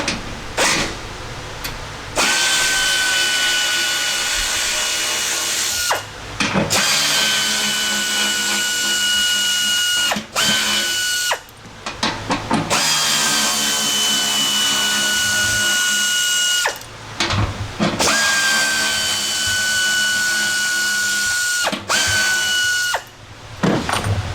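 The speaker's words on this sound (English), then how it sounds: "You're going to need to take the bracket screws off." A power drill removes bracket screws from an HVAC motor in several loud, close whining runs of a few seconds each, separated by short pauses.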